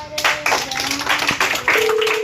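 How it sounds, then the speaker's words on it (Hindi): A small group claps at an Independence Day patriotic song event, uneven bursts of hand claps with some indoor tapping and faint voices. "वेरी गुड, ताली बजाओ।"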